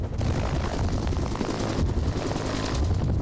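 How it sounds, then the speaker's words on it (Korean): A military helicopter carrying a Korean Marine Corps high-altitude parachute team lifts off and climbs, a loud, steady, dense rotor and engine roar filling the whole stretch without pause. "상공을 향해 헬기가 떠오른다."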